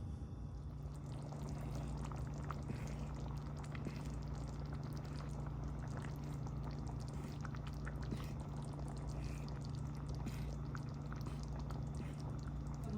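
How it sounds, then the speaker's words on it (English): A pot of water heats on a home stove toward a boil for spaghetti, giving a faint, steady simmering hiss and low bubbling over a constant background hum, with no talking. "My water is about ready to boil"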